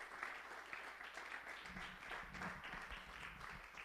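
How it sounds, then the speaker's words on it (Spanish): A church congregation applauding during an evening service, a soft, steady wash of clapping heard from a distance at low volume, with no voice rising above it. "¿Cuántos le dan un aplauso al Señor en esta noche?"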